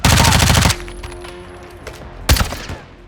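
A sharp burst of rapid automatic gunfire opens the exchange in a Call of Duty: Modern Warfare II campaign mission. A quiet stretch follows, then a second, shorter volley of loud shots.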